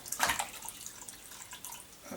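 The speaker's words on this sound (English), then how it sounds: "We're just going to cover those in some of the one step, slosh them around" Wine corks are sloshed around in a one-step sanitizing solution while preparing homemade wine, giving faint, uneven splashing and dripping water, strongest near the start, with no voices.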